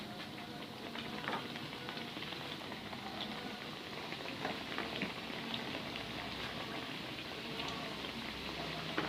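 Pieces of getuk, a cassava snack, fried in hot oil, giving a soft, continuous bubbling sizzle with scattered pops, fairly quiet and steady throughout with no talking.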